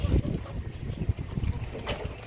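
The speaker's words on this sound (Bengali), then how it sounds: "বেশ হাওয়াও দিচ্ছে" Gusty wind buffets the microphone in low rumbling bursts, with faint soft noises beneath.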